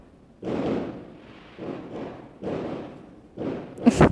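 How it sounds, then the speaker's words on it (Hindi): Firecrackers going off outside, heard as four or five dull, muffled bursts spaced about a second apart, moderately loud and with no one talking over them. "देख लो, आज पटाखे छूट रहे हैं"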